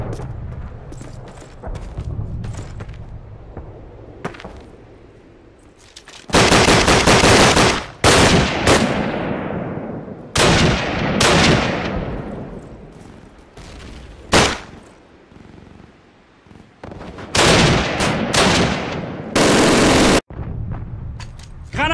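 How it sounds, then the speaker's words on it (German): Loud bursts of machine-gun fire and single gunshots from a Call of Duty game, coming in long rapid volleys with brief lulls between them, with booms mixed in. "Bin unter Beschuss!"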